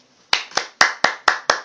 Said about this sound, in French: Et après, les gens applaudissent.